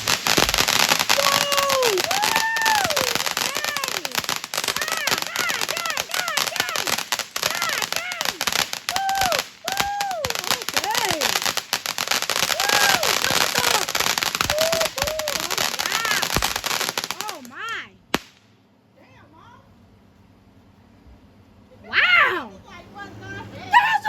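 Fireworks going off: dense, continuous crackling and popping fills most of the stretch, with excited children's voices over it. After a short quiet gap, another burst of crackle follows.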